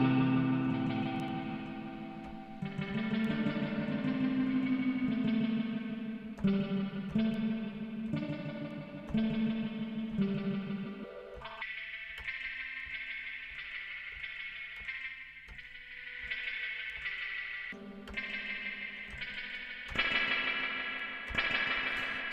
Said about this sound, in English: Give it some loads of spring reverb